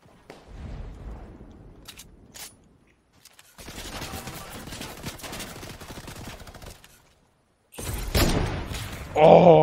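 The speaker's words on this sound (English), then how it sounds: "He's trying to shoot me." Gunfire bursts from a Fortnite match, with intermittent shots and impacts coming in clusters across the clip, the loudest volley near the end.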